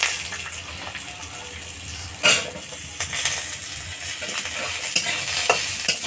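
Potato pieces fry in hot oil in a pan alongside vegetables, a continuous sizzle broken by scraping stirs, with one sharp clatter near the middle.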